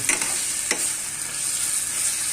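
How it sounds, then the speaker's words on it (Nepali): Onion and green chili hitting hot oil, a continuous bright sizzle with a couple of quick scraping stirs early on, close and alone without speech. "प्याज भर्ने, प्याज र खोर्सानी हाल्छु।"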